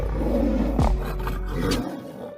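Lion and tiger fighting, a loud, close, deep roar swelling in the middle of a dense growling rumble, then fading quickly.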